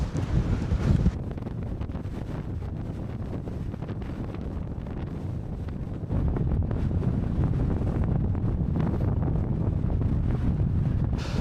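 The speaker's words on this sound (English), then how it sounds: "Now that was windy up there." Strong wind roars and buffets continuously against the microphone on an exposed hilltop in the Pentland Hills, a dense rushing noise with no voices, growing slightly louder partway through.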